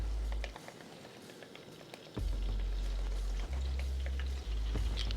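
Sesame oil hits a hot pan for chicken fried rice, giving a soft crackling sizzle with scattered pops over a steady low hum.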